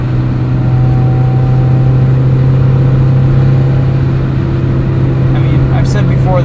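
A modified 1994 Mazda MX-5 Miata drives on a street at night, its engine droning with a steady, loud low hum from inside the cabin, rising slightly toward the end with no talk over it.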